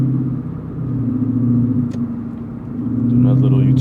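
Engine of a Lexus IS-F rumbles steadily from inside the car while driving, a low continuous drone that swells slightly toward the end, with faint talk in the cabin.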